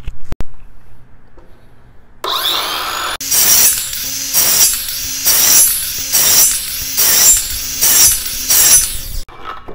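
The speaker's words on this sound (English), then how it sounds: "all I have to do is keep cutting and cutting and cutting and cutting and cutting until I have one solid notch" A handsaw cuts repeatedly into wood to form a notch for homemade parallel bars, with six or seven steady, loud rasping strokes following a brief scrape at the start.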